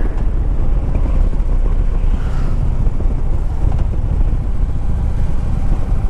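A 2011 Harley-Davidson Ultra Limited touring motorcycle on the road, its deep engine and exhaust rumble running steadily under heavy wind buffeting, loud and continuous throughout.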